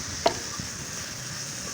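Spices, chopped garlic and hilsa fish frying in a pan for an ilish curry with kochu saag, a steady soft sizzle with one sharp scrape of stirring near the start.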